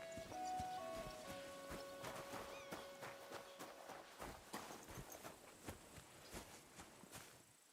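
Horse hooves clip-clop at a steady walking pace in Kingdom Come: Deliverance 2, fairly faint, with a soft game music bed running underneath.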